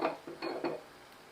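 Roasted peanuts are tossed into mint rice in a pan, making a few quick, faint clinks and scrapes of a utensil against the pan over about a second.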